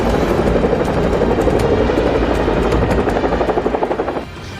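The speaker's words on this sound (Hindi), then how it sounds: "ये थे ब्रिटेन की चिनूक हेलीकॉप्टर।" British Chinook twin-rotor helicopters flying close overhead, a loud continuous rotor roar with rapid thudding blade beats that fade slightly near the end.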